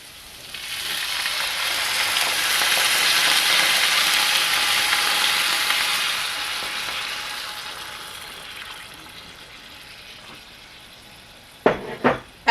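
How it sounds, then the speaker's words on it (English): Broth poured into a hot pan of sausage stuffing sets off a loud, close sizzle that swells, holds and then slowly fades, with a few sharp clanks at the end. "So now we're going to add in our broth."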